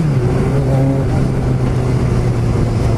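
Kawasaki ZXR 750 motorcycle fitted with a full exhaust system, its engine running steadily at a constant idle-like drone, loud and close throughout with no speech.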